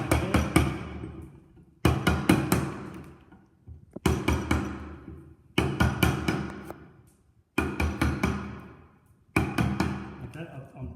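Mallet blows on a chisel chipping timber, six sharp bursts of rapid knocks spaced about two seconds apart, each ringing loud and close before decaying to quiet.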